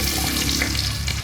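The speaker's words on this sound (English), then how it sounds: "Let it sizzle in." Whole spices such as cumin, star anise and bay leaf sizzle in hot oil in a pan for a biryani, a steady loud close crackle lasting about a second with no talking.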